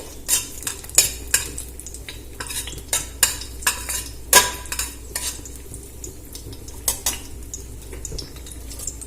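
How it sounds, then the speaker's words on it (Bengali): Dry red chillies frying in hot oil give a low sizzle, broken by a series of sharp metallic scrapes and clinks from stirring in the pan at an uneven pace, close by. "শুকনো লঙ্কাটা একটু নাড়াচাড়া করে ভেজে নেব।"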